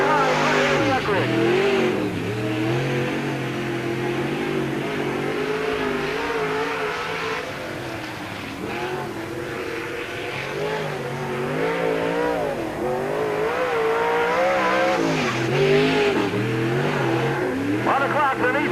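A race car on a qualifying lap at Peoria Speedway during the 1997 Busch 100 roars continuously, its engine rising and falling through the corners, loud and close for the whole stretch.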